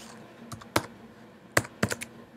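Someone types a folder name on a computer keyboard: a few quick, close key taps in small bursts over a couple of seconds against a quiet background.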